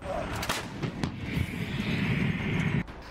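A 155 mm howitzer artillery cannon firing, heard as a sharp boom near the start followed by a rolling, rumbling roar that sustains for a few seconds before cutting off, with broadband blast noise throughout.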